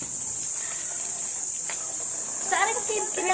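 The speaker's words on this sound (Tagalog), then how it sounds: "Mga kuliglig." Crickets chirp in a steady, shrill, unbroken drone on a morning at Caramoan, filling the whole stretch, with brief voices surfacing near the end.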